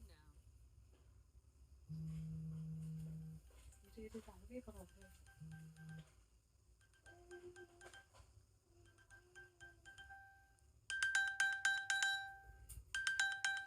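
An iPhone answers a Siri find-my-phone command by ringing from another room, a faint chiming tone that repeats and then grows louder near the end, with brief spoken voices mixed in.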